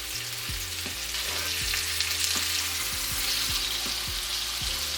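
Lamb meatballs sizzling steadily in a frying pan, a dense continuous crackle close by with occasional soft clicks, no voices.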